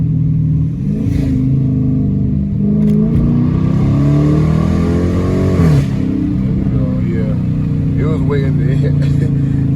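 A straight-piped Dodge Challenger R/T engine revs loudly up toward its rev limiter, pitch climbing in long sweeps, with in-car talk over the roaring exhaust.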